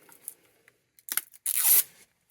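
A plastic zipper on a blind-bag package is torn open: a few soft rustles, then a short rip and a louder, drawn-out crinkling tear, close up.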